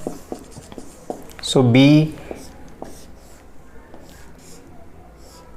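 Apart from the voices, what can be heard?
writing on a board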